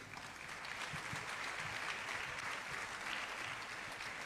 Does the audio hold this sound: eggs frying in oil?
no